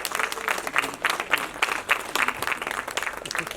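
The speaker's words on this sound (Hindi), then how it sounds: "मैं चाहूंगी कि डॉक्टर विनोद बाबूकर जी के लिए और श्री नीरज गुप्ता जी के लिए जोरदार तालियां होनी चाहिए" Audience applause at a stage show honouring the birthday of Lata Mangeshkar: a dense, steady burst of many hands clapping throughout, fairly loud and close, with no voices over it.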